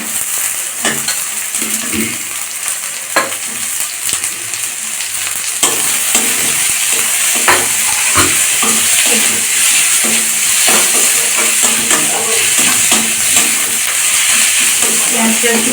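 Onions frying in a small amount of oil for a Bengali-style chicken skin curry, a loud continuous sizzle and hiss with stirring scrapes and utensil knocks against the pan, growing slightly louder partway through.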